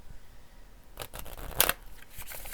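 Oracle cards being handled: a few quick, close papery flicks and rustles of card stock, brief and moderately quiet, with no talking.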